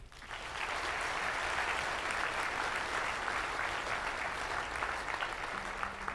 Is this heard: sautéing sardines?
no